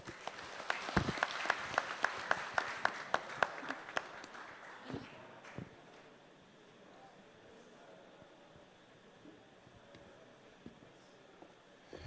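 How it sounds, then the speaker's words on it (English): Audience applause at a fleet officers' forum, a dense burst of clapping for about five seconds that quickly thins into a few scattered claps and fades to quiet room tone. "round of applause, please."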